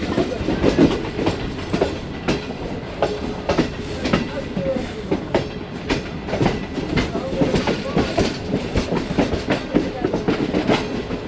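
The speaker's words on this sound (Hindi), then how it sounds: "12:32 पे रावलपिंडी रेलवे स्टेशन पे अप्रोच कर रही है 14 डाउन अवाम एक्सप्रेस" The 14 Down Awam Express, a train with a new rake, rolls into Rawalpindi railway station with steady rhythmic clickety-clack of wheels over rail joints, loud and continuous, with a faint squeal in places and no talk over it.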